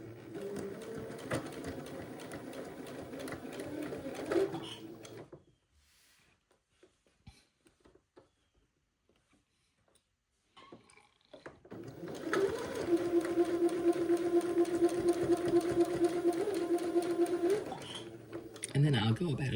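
A sewing machine stitches a tab onto an Eton suit in two long, loud runs of rapid, even stitching, separated by a quiet pause with small handling noises.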